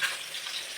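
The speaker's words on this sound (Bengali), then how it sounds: "এখানে মাছ ভাজছে" Fish frying in a pan over a coal fire gives a brief, steady hiss of sizzling oil, close and even throughout.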